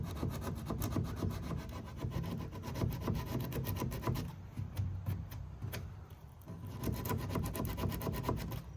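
Antique oak desk timber is rubbed and cleaned to lift scratches and dirt, a steady rhythmic scraping and rasping of strokes back and forth across the wood, close and moderately quiet with no talk.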